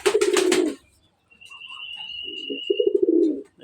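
A pair of caged pigeons whose female has just laid eggs coo close by in two bursts of low, throaty, repeated calls separated by a short pause, with a faint thin whistle in between.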